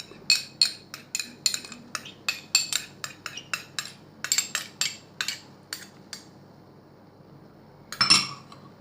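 Kwek kwek batter mixed with ketchup in a bowl, a fast run of sharp metallic clinks from a utensil against the bowl, rhythmic and close, pausing briefly before a final cluster of scrapes.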